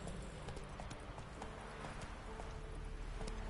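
Roach, a horse in The Witcher 3 Wild Hunt, gallops in a steady rapid clip-clop of hooves, close and continuous over a dense game background.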